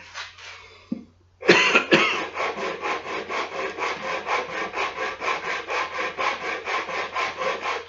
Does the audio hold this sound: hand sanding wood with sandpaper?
yes